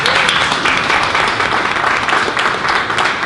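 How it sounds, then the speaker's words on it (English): A crowd claps together in a sustained burst of applause, dense and loud, with faint voices mixed in. "why don't you give yourself a round of applause."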